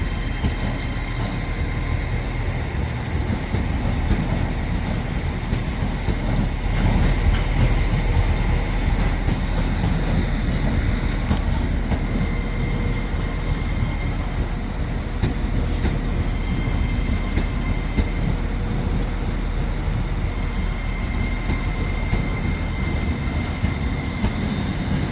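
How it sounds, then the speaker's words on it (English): Train 807-006 pulls out of Birmingham New Street station on the West Coast Main Line, heading for Wolverhampton. Its loud, steady rumble fills the platform throughout, with faint rail clatter and screeches over the constant roar. "there goes 807-006 off to... Where's that to? To Wolverhampton."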